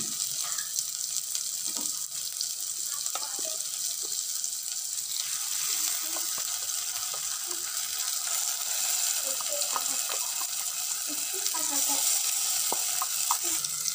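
Continuous sizzling of a ground spice paste frying in a pan for fish curry, with scattered clinks and scrapes of stirring throughout.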